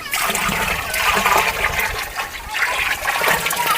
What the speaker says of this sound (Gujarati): આ આપણે દવ દસ લીટર ગૌમૂત્ર આમાં એડ કર્યું છે